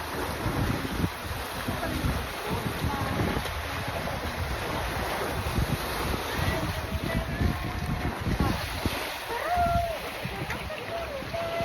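Rough sea waves churn and wash around a boat at sea, with strong wind buffeting the microphone and people talking over the constant rushing water.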